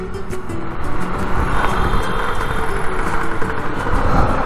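A 1948 motorcycle engine runs amid a busy Barcelona street rally of thousands of bikes, its uneven chugging mixed into a loud, continuous traffic rumble with other engines nearby.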